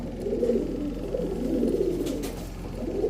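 Male pigeons, long-distance racing birds, coo in a low, steady, continuous murmur throughout, fairly close and moderately loud, with no talking.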